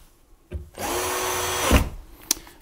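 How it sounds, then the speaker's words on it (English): Close power drill driving screws into deck-layout brackets during construction: a short buzz, then a steady whirring run of about a second ending in a thump, followed by a sharp click. "that's the last of the bracket screws"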